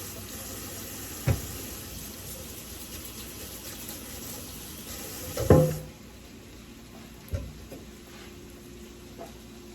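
Asparagus cooking in a pan, a steady soft sizzle that drops in level partway through, with a couple of sharp knocks from the pan or utensil, close and quiet, no talking.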